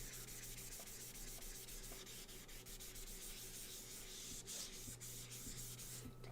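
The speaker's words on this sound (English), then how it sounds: "I'm just going to lightly sand this guy's face here." Light hand sanding with a foam sanding pad across a wood-burned wooden piece, a steady close scratchy rubbing that continues evenly without pauses and with no voices.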